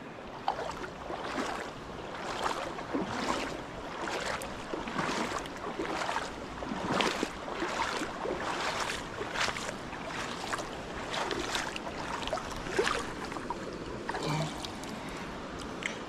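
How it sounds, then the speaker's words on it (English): A river's water rushes and splashes faintly in the open air on a fossil-hunting outing, a soft broadband wash with repeated brief surges and no voices. "What a lovely river."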